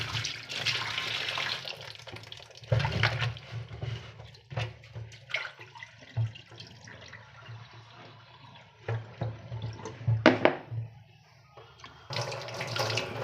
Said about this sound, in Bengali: প্রথমে ভালো করে ধুয়ে নিতে হবে টমেটোগুলোকে।